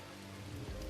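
Steady rain falling in the Amazon jungle of the survival game Green Hell, a dense broadband hiss with a low rumble swelling near the end, no voices.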